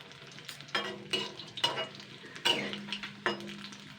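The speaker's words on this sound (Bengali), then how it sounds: "উল্টাপাল্টে লাল লাল করে ভেজে নিতে হবে" Pieces of coconut pith fry in oil and are flipped with a spatula, giving four or five quick scraping strokes over a quiet, close sizzle.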